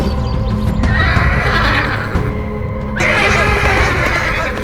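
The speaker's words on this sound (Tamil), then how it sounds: "குதிரை ஓடுகிறா." Horse in an animated Ponniyin Selvan episode, with two loud, close whinnies cutting through a busy layer of hoofbeats and galloping.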